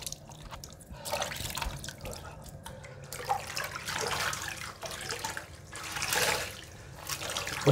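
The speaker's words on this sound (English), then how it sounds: "So I just put some water in my sink." Water from a stoppered, filled bathroom sink is scooped and splashed onto a face, producing soft intermittent splashes and drips at close range, fairly quiet.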